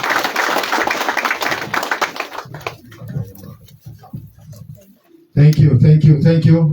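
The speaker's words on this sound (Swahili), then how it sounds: "Tumpigie makofi mazuri." Mourners at a Kenyan burial break into applause, a dense patter of clapping that fades into a quieter stretch with a speaking voice, then swells back strongly for the last second and a half.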